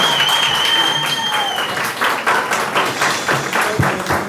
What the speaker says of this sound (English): you can cheer now if you want to cheer